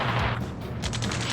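Dense, continuous gunfire in a firefight from the video game Ace Combat 7, loud and close, with rapid bursts merging into a steady roar.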